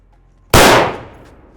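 Single .308 rifle shot firing a 178 ELDX bullet from a 26-inch barrel, one sudden loud crack close by that rings out and decays over about a second.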